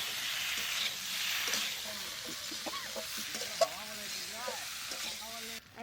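Dried red chillies frying in hot oil in a village kitchen, a steady close sizzle and crackle running throughout, with a spoon stirring and voices speaking over it.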